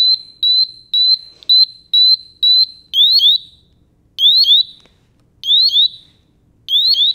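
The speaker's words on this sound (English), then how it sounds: "You're now hearing the low alarm." Honeywell BW Solo gas detector sounding its low alarm: loud, piercing electronic beeps, first a quick run of short regular chirps, then longer rising double-tone bursts repeating with gaps, alone with no talking.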